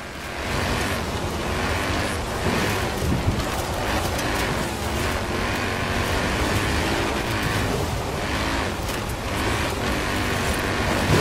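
Mini X-Raid Countryman Dakar rally car in Forza Horizon 4, a loud, steady broadband engine and road roar with wind-like noise running continuously throughout, no pauses or talk.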